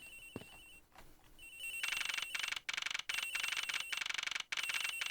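A very loud cell phone ringer in the Ace Attorney video game trills in rapid, pulsing electronic bursts, starting quietly and then blaring for several seconds with short breaks; no talking.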